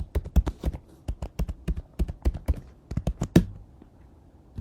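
A computer keyboard is tapped in a quick, uneven run of about twenty close, crisp keystrokes while a password is typed, then it goes quiet.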